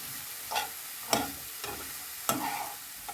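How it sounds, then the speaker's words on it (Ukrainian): Steady oily sizzle of eggplant slices frying in oil in a pan over low heat, with a few soft scraping stirs breaking through at intervals. "Ось так помаленьку хай смажаться."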